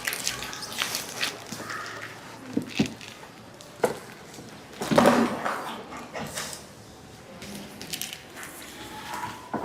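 Water poured over a deceased body turned onto its right side during Islamic ritual washing, splashing in uneven bursts and drips at moderate loudness, close by, with no talking.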